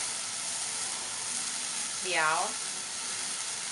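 Sunflower sprouts and fresh shiitake mushrooms stir-fry in a hot pan, giving a continuous, even sizzle with a soft hiss that stays steady throughout, while someone briefly speaks over it.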